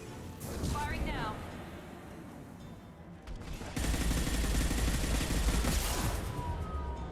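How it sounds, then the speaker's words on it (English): Rapid bursts of gunfire from weapons in the video game Mass Effect 2 erupt loud and dense, swelling sharply midway. A voice is heard briefly near the start. "Firing now."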